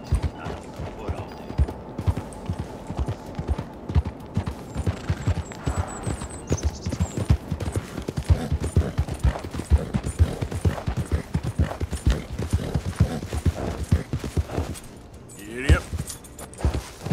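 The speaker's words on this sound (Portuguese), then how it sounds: "Esse cavalo, essa égua é muito louca, ela dá uns pulos do nada." A mare's hooves clatter in a steady, fast clip-clop rhythm while galloping in the video game Red Dead Redemption 2, close and continuous, with game sounds and a voice talking at times.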